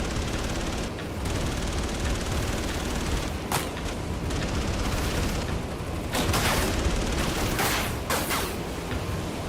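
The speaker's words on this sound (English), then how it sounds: "Let's burn some bullets." Gunfire in the Battlestations: Pearl Harbor video game, heard as a continuous roar of rapid machine-gun bursts and booming blasts, with sharper loud cracks standing out at intervals over a dense, steady wall of noise.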